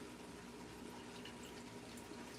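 Tap water runs steadily into a sink while canned red kidney beans are rinsed for homemade chili, a faint continuous hiss and splash with no talking.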